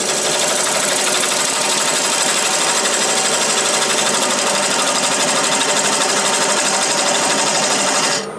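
A wood lathe cuts a tenon into a spalted maple bowl, giving a loud, steady, close-up buzzing roar of the spinning wood against the tool that runs unbroken until it cuts off abruptly at the end.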